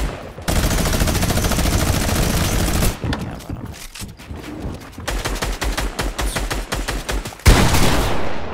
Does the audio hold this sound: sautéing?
no